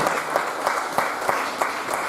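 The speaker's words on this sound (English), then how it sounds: "you all deserve a big round of applause" Audience applauding contestants at a vegan chef cook-off championship, a fairly close, busy clapping with a few sharper individual claps standing out in a loose rhythm.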